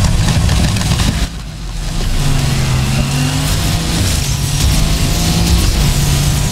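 A Mercedes races through the streets in the video game Need for Speed Heat, its engine droning loud and steady with a brief dip in revs, then climbing and holding again, no voices over it.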